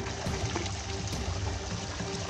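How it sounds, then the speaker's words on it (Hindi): Drinking water collected in a vessel at a mountain water source after rain, a continuous loud rushing pour and splash filling the clip, close and without talk. "यहाँ से पानी भर रहा हूँ अभी पीने के लिए।"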